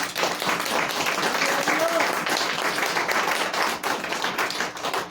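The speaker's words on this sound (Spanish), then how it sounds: "Una ofrenda de palmas al Señor." Church congregation clapping together as an offering of applause, a dense, steady patter of many hands filling the room, with a voice briefly audible within the crowd sound.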